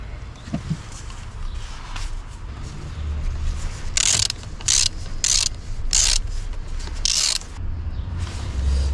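A battery terminal nut is tightened on a Renault Clio 4, giving quiet mechanical creaks followed by a run of five or six sharp, rhythmic ratcheting clicks up close, with no talk.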